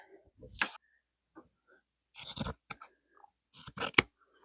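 Scissors cut fabric strips from the back of a garment to make a hairband, heard as a few sharp, close snips in quick clusters with quiet gaps between them.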